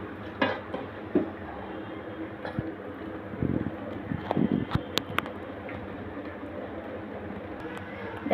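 A metal lid is set onto a cooking pot of taro leaves (kochu shak) being steamed in a home kitchen, making a few faint clinks and taps under a speaking voice and low background hiss.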